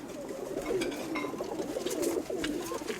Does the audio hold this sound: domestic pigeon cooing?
yes